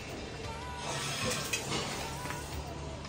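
Karanji sweet dumplings frying in hot oil give a steady, faint sizzling hiss throughout, with no voices over it.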